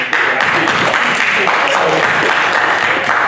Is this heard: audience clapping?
yes